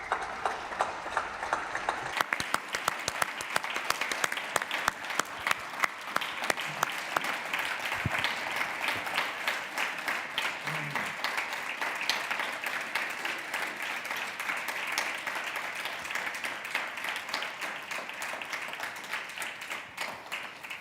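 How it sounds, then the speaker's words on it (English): Audience at an international conference on Duchenne and Becker muscular dystrophy applauds for Flavio, with a dense, sustained patter of clapping that stays even and moderately loud for a long stretch. "You deserve the applause"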